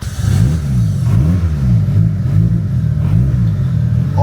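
A Mitsubishi Evo's engine revs loudly and close up, its pitch rising and falling in repeated surges over a deep, throaty rumble.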